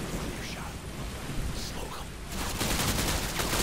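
Gunfire in the video game Call of Duty Modern Warfare 2, a dense rattling fusillade under steady noisy background that swells into rapid continuous shots toward the end, with faint voices mixed in.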